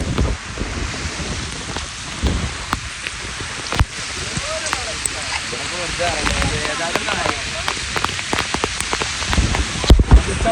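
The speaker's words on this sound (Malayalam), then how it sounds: "മഴയാണ് ഫുള്ള്." Heavy rain pours down on an island in Lakshadweep, loud and close with dense drumming and sharp drop impacts on nearby surfaces, while a voice talks intermittently over the downpour.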